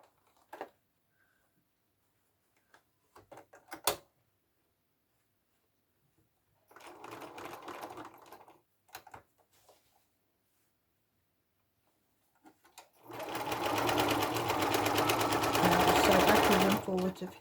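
Sewing machine stitching a fabric face mask, running in short bursts with pauses, then a longer steady whir near the end; close and fairly loud.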